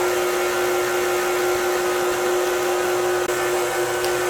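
An electric mixer runs steadily as it blends pumpkin bread batter, a constant close motor whir with a high hum and no pauses or voices.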